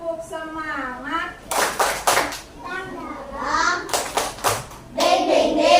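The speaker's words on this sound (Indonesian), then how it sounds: "tepuk semangat" Rhythmic bursts of children's clapping in a grade 3 Islamic studies classroom, several sharp clap clusters alternating with kids chanting and talking in between.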